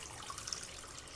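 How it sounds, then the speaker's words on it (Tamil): A soft, steady pouring trickle of milk into a pan, faint and brief, with no voices. "பாலும் இது கூட ஊற்றிக்கிறேன்,"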